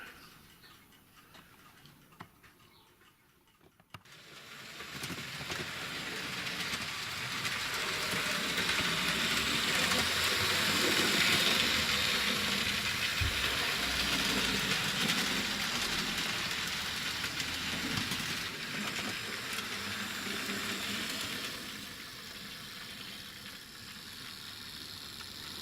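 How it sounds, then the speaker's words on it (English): Model train pulling out of a station on a home model railway layout, a quiet rhythmic ticking and rolling that rises after a few seconds, holds steady, then fades slightly toward the end. "there's a train just about to leave Valendorf station now"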